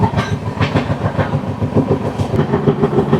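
A train runs along a hillside railway in West Bengal, its wheels beating a steady clickety-clack rhythm over the rails, loud and close throughout with no voices.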